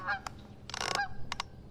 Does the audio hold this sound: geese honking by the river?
yes